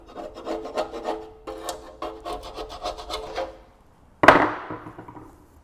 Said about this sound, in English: I'm just gonna spend 60 seconds scraping some of this away